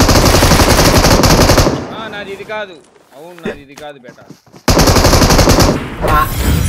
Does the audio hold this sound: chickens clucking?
no